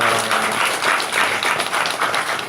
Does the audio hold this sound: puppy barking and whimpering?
no